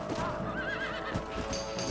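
A horse in Red Dead Redemption lets out a loud, close whinny that rises and falls in a wavering call, with faint hoof clip-clop beneath it.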